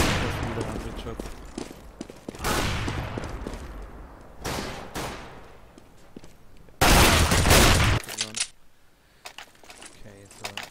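Gunfire from the video game CS:GO comes in several loud bursts of rapid shots separated by quieter stretches, with smaller clicks and game effects between them.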